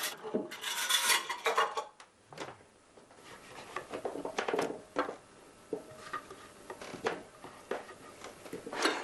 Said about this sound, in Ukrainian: Всі овочі нарізаємо великими шматочками